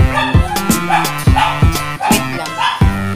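Dogs bark and yip repeatedly at feeding time, a string of sharp, loud, close barks coming in quick bursts with short gaps between them, and no one speaking.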